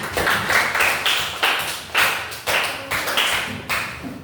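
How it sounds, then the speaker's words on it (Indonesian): A classroom of students claps in several rhythmic bursts, each swelling and fading, fairly close and loud with no talk over it. "Beri tepuk tangan semuanya"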